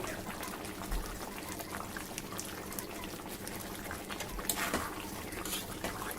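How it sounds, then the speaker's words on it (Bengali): Water is added to chicken korma simmering in a pot, giving a continuous bubbling, gurgling hiss of liquid close by, with no talking. "ওর মধ্যে আর একটু জল দেবো"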